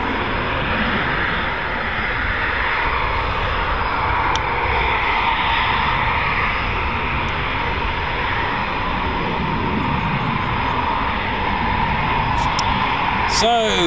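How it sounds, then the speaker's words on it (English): An RAF Eurofighter Typhoon FGR4 roars steadily at RAF Coningsby, a loud, sustained wall of broadband jet engine noise that fills the whole stretch, with only faint hints of other sounds underneath. "no point commentating over typhoon noise"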